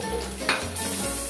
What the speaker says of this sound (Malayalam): ഇതിലേക്ക് നമുക്ക് വെളുത്തുള്ളി ചേർത്ത് കൊടുക്കാം.